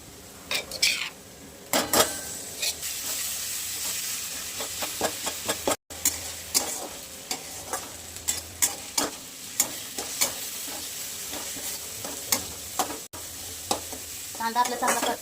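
Ginger garlic paste stirred into a frying pan with onions for a spiced okra and yogurt curry, repeated sharp clinks and scrapes of a spoon on the pan over a continuous sizzle, with no voices.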